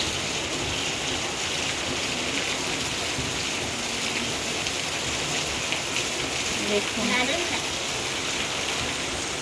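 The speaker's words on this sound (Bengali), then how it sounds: "জাস্ট রিভুকে নিয়ে বাড়িতে ঢুকলাম আর এই রকম বৃষ্টি হচ্ছে" Heavy rain pours steadily and loudly, a dense unbroken hiss of water drumming on surfaces close by, with no pauses across the whole stretch.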